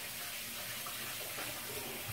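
Tap water runs steadily into a sink for hand washing in a home kitchen, a soft continuous broadband hiss at close range with no talk over it.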